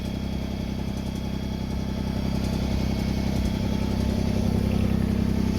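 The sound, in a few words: backhoe engine running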